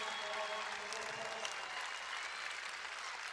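Crowd at a women's college basketball national semifinal applauding a team, a steady, dense roll of clapping at even volume throughout, with faint voices mixed in.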